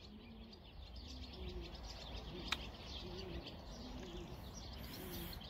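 A racing pigeon cooing near its loft, soft repeated low coos in a steady rhythm over quiet outdoor background, with a brief sharp click midway.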